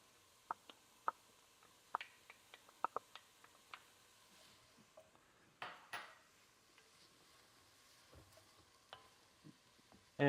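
Carrots sautéing in a pan for ragù alla Bolognese, a soft steady sizzle under sharp utensil clicks and scrapes against the pan, with a few louder stirring bursts midway.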